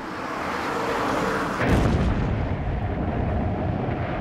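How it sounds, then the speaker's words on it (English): Heavy World War I anti-aircraft fire aimed at low-flying bombers, a continuous roaring barrage of booms with a heavy thud partway through, loud and dense throughout. "The bombers, flying low to drop their load, came under increasingly heavy anti-aircraft fire."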